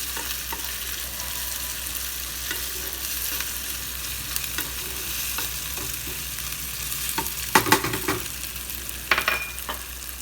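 Curry leaves fry in hot oil in a pan for tiffin sambar, giving a continuous crackling sizzle with a few sharper pops and stirring clicks near the end.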